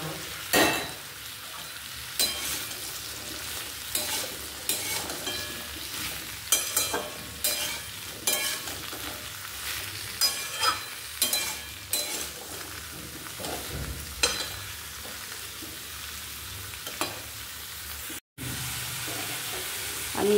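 Pointed gourd (potol) sizzles and fries in a pan with a little salt, with repeated scraping stirs of a spatula at an irregular rhythm, close and steady throughout.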